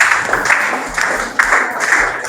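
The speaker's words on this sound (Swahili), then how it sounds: "Tumpigie makofi." Classroom applause for a student at a high school question-and-answer session, a short burst of clapping from a group, fairly close and steady, with faint voices underneath.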